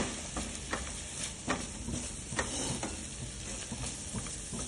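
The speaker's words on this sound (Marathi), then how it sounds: "लसणाचा कच्चटपणा जाईपर्यंत फक्त त्याला भाजून घ्यायचं." Garlic dry-roasting in a pan for a chilli dish, a faint steady hiss and sizzle with occasional soft stirring taps, quiet and close, nobody speaking.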